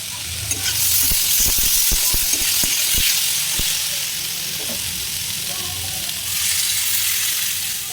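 Cauliflower florets frying in plenty of oil in a separate kadai, a loud, close, continuous sizzle with a burst of metal spatula clinks and taps early on, then steady hissing.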